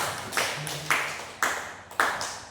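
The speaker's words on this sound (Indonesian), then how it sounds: "Tepuk tangan untuk Bapak Ibu semua." Teachers at a training session clap in unison: four loud, echoing claps land at an even, slow pace, each ringing briefly before the next.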